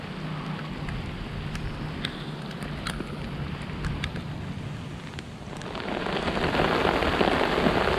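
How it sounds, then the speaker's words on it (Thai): Heavy rain pours steadily outdoors during a fishing trip, a dense, loud hiss with scattered drops striking a nearby surface. The downpour grows even heavier toward the end. "ฟ้าฝนโหดด้วยนี่ เข้านั่งตักฝนเลยเป็นไง"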